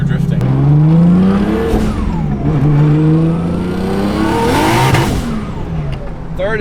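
Nissan R32 Skyline on the move, its engine revving and accelerating loudly up through the gears with rising and falling pitch, heard from inside the car while occupants talk over it.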